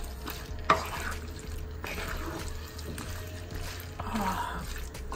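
A spoon stirs a pan of chickpea and potato shakshuka seasoned with cumin, giving soft scraping and shuffling strokes over a low simmering fizz, fairly quiet and close, with no one talking.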